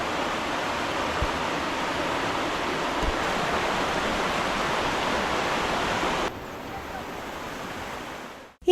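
A forest river flows gently at Seetharkundu in Nelliyampathy, Palakkad, Kerala, with low water, making a steady, even rush close by that softens slightly near the end before a brief knock.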